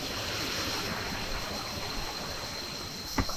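A waterfall in a garden on Koh Samui pours steadily as a continuous broadband rush of flowing water, with a brief sharp knock near the end.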